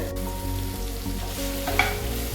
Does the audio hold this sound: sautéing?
yes